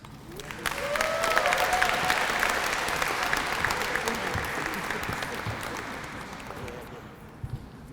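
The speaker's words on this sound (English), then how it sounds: "Let's give another round of applause" An audience at a Women's History Month closing ceremony applauds in a sustained, dense burst of clapping that swells quickly, holds steady and then thins out near the end.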